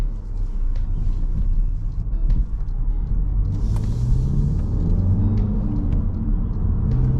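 A manual Volkswagen Mk8 GTI being driven, heard as a steady low engine and road rumble from inside the cabin, with rising tones as it accelerates through the gears and no talking.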